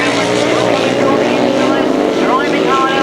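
Sidecar motorcycles racing in a heat on a 1991 grasstrack, loud continuous engine roar with rising and falling revs as the outfits pass, under a race commentator's voice.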